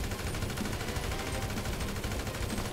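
Rapid AK assault rifle fire in GTA 5, a dense continuous burst of shots lasting the whole stretch, loud and close with no talking over it.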